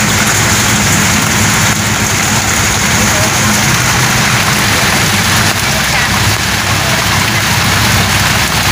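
Heavy rain pours steadily and loudly in Tiaong, drumming on and around an open vehicle with no roof, a dense continuous roar that fills the whole stretch without letting up.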